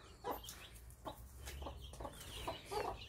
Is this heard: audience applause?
no